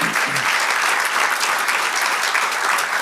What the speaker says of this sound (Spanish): Démosles un aplauso al Señor otra vez.